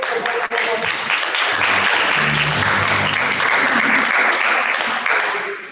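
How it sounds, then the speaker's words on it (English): A round of applause from the audience at a masterclass for bassist Ari Folman-Cohen. The clapping is full and sustained for several seconds, with a low musical tone underneath, and it tapers off at the end. "one more round of applause for Ari"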